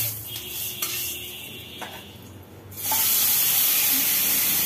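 Bottle gourd chhechki with black cumin and dried red chilli fries in hot oil in a pan; a soft, crackly sizzle with light stirring swells into a loud, steady hiss partway through.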